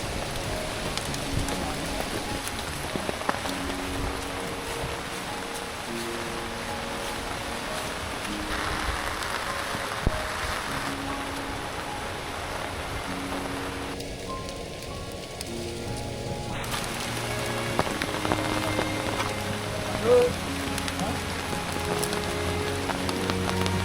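Steady rain patters on surfaces during a mountain hike on Mount Dukono, a dense continuous hiss close around, with faint voices and scattered tones underneath.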